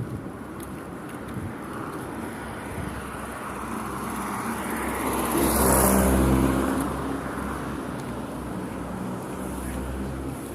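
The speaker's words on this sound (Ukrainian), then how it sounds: "Їдуть машини." Cars drive past on a city street with a steady traffic rumble, one vehicle swelling louder as it passes close by in the middle and then fading away.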